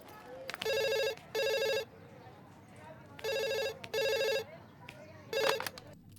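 A telephone rings in repeated double bursts, loud and close, with quiet room sound between the rings.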